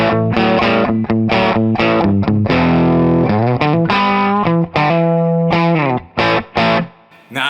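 A Firebird-style electric guitar on its humbucker pickup plays loud, distorted chords and riffs with a thick, chorus-tinged tone, and strummed hits ring out before cutting off near the end.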